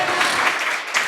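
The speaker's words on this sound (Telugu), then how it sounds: "చప్పట్లు కొట్టి గట్టిగా చెప్పండి" A church congregation claps together during a Christian sermon, a brief dense patter of many hands close and fairly loud.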